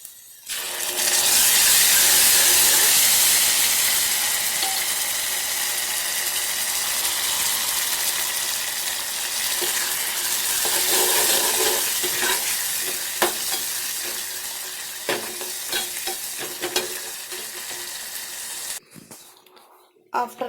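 Mashed dal for tomato dal curry sizzles and fries in a hot pan, a loud steady crackle with stirring scrapes that carries on for most of the clip before cutting out abruptly near the end.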